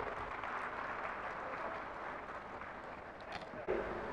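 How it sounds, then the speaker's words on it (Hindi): Sustained applause from an audience in a university auditorium, a steady wash of clapping from many hands throughout, ending with a brief thump. "जोरदार तालियों से सर का अभिनंदन हम करेंगे।"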